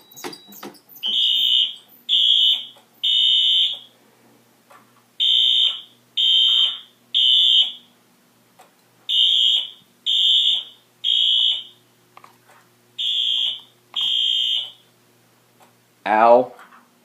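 Simplex and Mircom fire alarms set to low volume sound during a system test: a loud, close electronic tone pulses in regular groups of three bursts with short gaps, repeating steadily, ending on a brief rising whoop.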